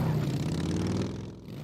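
A monster truck engine in a dinosaur battle video game, a loud rough rumble holding steady and then easing off slightly near the end, with no talking.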